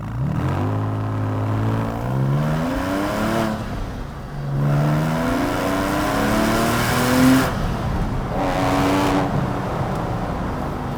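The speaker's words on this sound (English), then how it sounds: "switchable sports exhaust system is turned on, and this is what it sounds like." A Porsche 911 997.1 Carrera S engine revs repeatedly with its switchable sports exhaust on, pitch climbing and falling through several throttle blips, loud and close with a raspy exhaust note.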